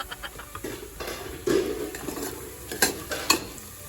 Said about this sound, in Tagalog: nagigisa na ako ngayon ng bawang at sibuyas